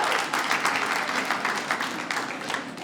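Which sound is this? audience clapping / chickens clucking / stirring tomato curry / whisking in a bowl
audience clapping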